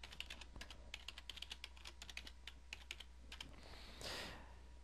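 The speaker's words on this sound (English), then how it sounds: "So I'll key in the information and give Ken a login to the network." Rapid bursts of keystrokes on a computer keyboard while entering a new employee's details and a temporary network password, close and fairly quiet, irregular clusters of clicks ending in a brief rustle.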